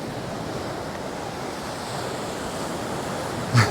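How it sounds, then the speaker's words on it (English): Ocean waves break and wash along a beach in Aruba, a broad continuous roar of surf mixed with wind buffeting the microphone, steady throughout with a brief thump near the end. "even though there are some more waves on this side"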